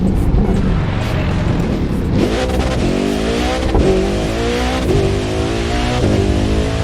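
Koenigsegg Jesko engine in The Crew 2 revs hard and loud, with rising pitch sweeps broken by several quick gear shifts, a continuous roar with no talking.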